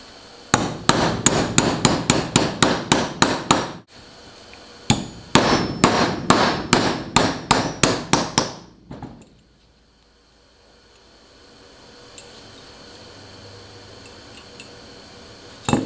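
Repeated sharp metallic hammer blows drive a pin into a chain link, delivered in two rapid rhythmic bursts of about a dozen strikes each, loud and close, followed by near silence.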